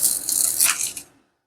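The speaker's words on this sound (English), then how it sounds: "So I'm going to just peel this off." Adhesive backing is peeled off a resin coaster mold in one crackly, papery tear lasting about a second, close and fairly loud, then it stops into silence.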